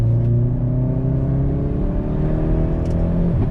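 A KF1600 Korean formula race car idling and driving slowly at Yeongam circuit: a loud, close, steady engine drone with strong tonal harmonics, holding level and shifting slightly toward the end.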